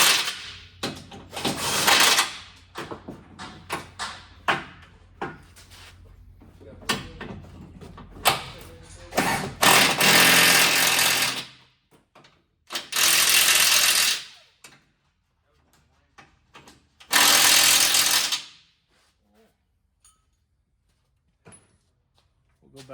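A ratchet wrench loosens steering box bolts on a 2005 Chevrolet Silverado, with rapid clicking bursts and clanks followed by longer spells of ratcheting, close up, with some speech mixed in.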